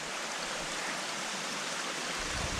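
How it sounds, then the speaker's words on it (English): A mountain waterfall and stream on Mt. Hood's Timberline Trail near McNeil Point, a dense, steady rush of water roaring close by with no pauses. "So see the waterfalls, plenty of places to get water."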